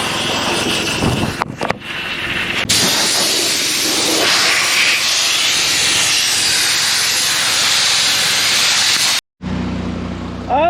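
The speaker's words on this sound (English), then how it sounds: "go back with the air hose, clean it all up" A compressed-air hose blows a steady, loud hiss across freshly welded seams on a trash compactor being converted into a pool, working outdoors; the continuous rush runs nearly the whole time, then cuts out briefly near the end.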